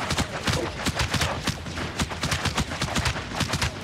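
Rapid gunfire from a video game, a steady burst of closely spaced loud shots rattling without pause for a few seconds, no talk over it.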